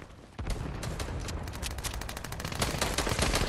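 Rapid bursts of weapon fire in Fortnite Chapter 4 gameplay, a dense rattling volley that begins abruptly after a brief quieter moment and continues loud and close to the end.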